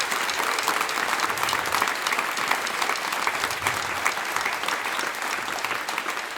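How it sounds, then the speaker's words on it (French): A theatre audience at an amateur evening-class performance applauds loudly, a thick, sustained clatter of many hands that stays even throughout. "je pense qu'on peut l'applaudir bien fort"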